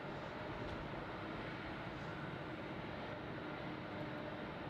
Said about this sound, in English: let's get the SQ cargo that's currently taxiing over for us